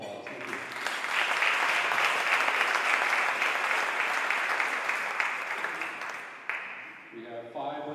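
A room of attendees at a Rotary club meeting breaks into sustained, even clapping for several seconds, then it fades as a voice begins speaking.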